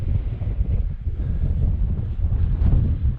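Strong wind buffets the microphone on the summit of Kidsty Pike, a Lake District fell, in winter, a steady loud low roar with gusts that swell toward the end and no talk over it.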